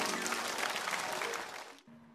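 A studio audience at a televised antique appraisal show applauds as three calligraphy and painting collectors walk on stage, dense clapping that fades out abruptly after under two seconds.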